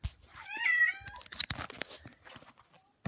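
A cat gives one clear drawn-out meow near the start, followed by soft rustling, scratching and small handling noises close by in a quiet room.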